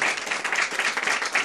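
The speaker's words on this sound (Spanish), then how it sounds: "fuerte el aplauso, Rodrigo" A crowd at a Mother's Day show in Lota applauds Rodrigo with dense, steady clapping that fills the whole moment, fairly close and unbroken, with no voices over it.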